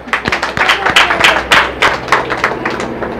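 An audience at a public speech event claps, a dense burst of sharp hand claps with an uneven rhythm building and holding, loud and close.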